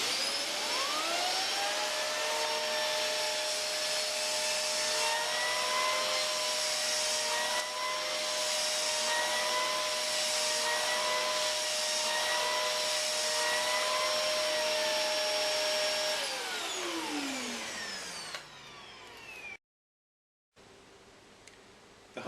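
LG Kompressor LuV250C upright vacuum running with its air-driven brush tool on pet hair, a loud steady whine and roar held for about seventeen seconds before winding down and cutting off.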